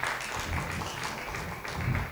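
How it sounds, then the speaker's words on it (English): Audience applause at an all-party town hall: a steady wash of many hands clapping, fairly even and continuous throughout, heard at moderate distance with no talk over it. "they receive need to be given a big round of applause"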